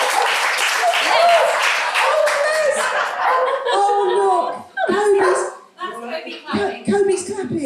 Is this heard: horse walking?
no